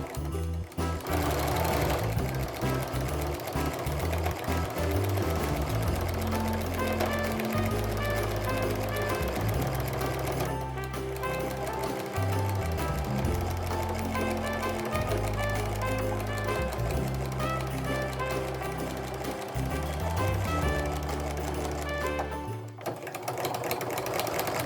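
A sewing machine stitches cross-hatched quilting lines on a snowflake mug rug, whirring in long continuous runs broken by brief pauses for turning at angles, loud and close with no talk.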